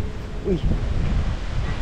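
Strong wind roars across a seaside campsite in Bolinao, Pangasinan, a steady low rumble of gusts buffeting the microphone while a voice briefly calls out over it.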